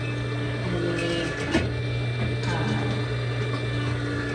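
A sewing machine stitches over a thick, bulky seam on barrel jeans with a steady close motor hum, rhythmic mechanical ticking and a brief louder clunk partway through.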